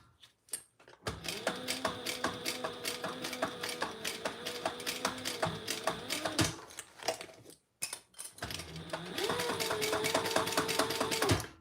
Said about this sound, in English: And I am top stitching from the inside.